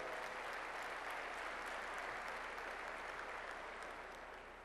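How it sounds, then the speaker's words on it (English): An audience at an EMC corporate meeting applauds in a steady, sustained wash of many hands clapping, close and even throughout, tapering slightly at the end. "Please applaud if you were not a part of EMC 3 years ago"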